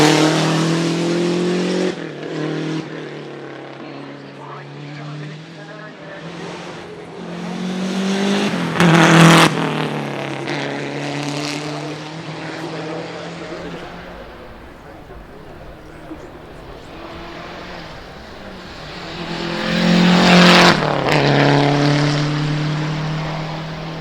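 A Lancia Delta HF Integrale Evoluzione rally car in Martini livery drives past, its engine swelling and fading with two loud surges and gear-change steps, heard beneath someone talking.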